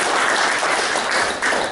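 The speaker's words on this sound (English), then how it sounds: "Give him a round of applause." Live audience applause at a hypnosis practice seminar, a dense, steady wash of many hands clapping at close range that holds level throughout without any voices on top.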